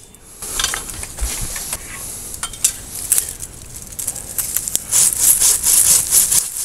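Hand saw cutting through wood, used for pruning in place of a small battery chainsaw; steady rasping strokes that grow louder and brighter toward the end, close by with no talking.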